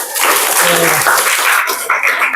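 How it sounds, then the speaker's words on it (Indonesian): Group of people clapping hands together in a session, a dense burst of applause-like clapping that runs loud throughout, with a brief voice near the start. "Oke, tepuk tangan buat kita."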